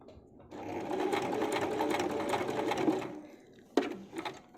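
A sewing machine stitches fabric for a small pouch, its motor whirring steadily for about two and a half seconds before stopping, followed by a few sharp mechanical clicks.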